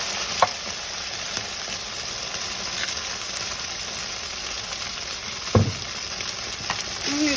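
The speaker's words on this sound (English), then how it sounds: "you're going to stir this around and try to get this cheese melted, the cream cheese" Cream cheese being stirred into mushroom soup in a pot, a steady wet, sizzling churn that runs throughout, with a couple of sharper clunks from the spoon near the middle and end.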